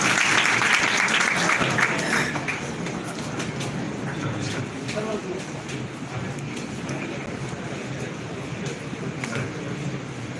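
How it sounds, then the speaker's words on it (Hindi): A seminar audience bursts into loud, dense applause at the start that gradually settles into a steady broad wash of clapping and crowd noise. "एक बार जोरदार ताली।"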